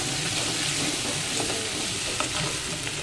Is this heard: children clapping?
no